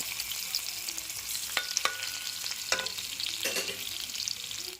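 Crushed garlic cloves sizzle steadily in a hot pan, with a bright constant hiss and a few sharp clicks and scrapes as a utensil stirs them.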